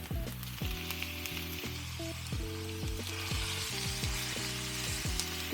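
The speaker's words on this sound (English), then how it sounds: "now I'm gonna add my ground meat to it" Ground meat sizzles in a pan with softened onions for stuffed peppers, a steady close frying hiss with tonal harmonic streaks from music or background tones running throughout.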